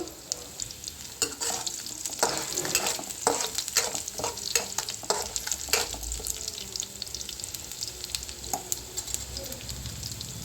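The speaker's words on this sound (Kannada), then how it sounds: "ಸ್ವಲ್ಪ ಫ್ರೈ ಆಗಬೇಕಿದು ಬೆಳ್ಳುಳ್ಳಿ" Crushed garlic frying in a pan for a Kannada-style ridge gourd palya, a steady close crackle and sizzle with scattered sharp pops and occasional stirring clinks, no voices.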